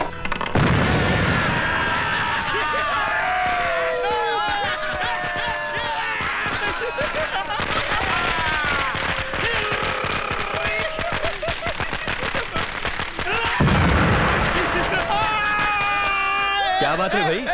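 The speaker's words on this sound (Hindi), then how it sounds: "क्या बात है भाई, पटाखे किस खुशी में जला रहे हो?" Firecrackers burst in rapid, irregular volleys of sharp pops and booms, loud and close, mixed with music and dramatic background sound in a Hindi action film scene.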